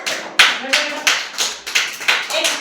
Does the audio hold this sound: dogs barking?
no